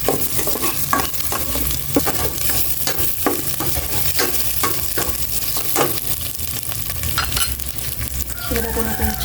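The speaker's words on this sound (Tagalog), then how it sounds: "Ilagay ko natin yung chicken ng mantika." Chicken frying in cooking oil, a steady close sizzle and crackle running throughout with repeated stirring scrapes at a regular rhythm, no talk.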